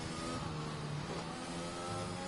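A Formula 1 race car engine in the video game F1 2021 at the Hungarian Grand Prix drones steadily and loud, its pitch stepping as it downshifts, with no voices.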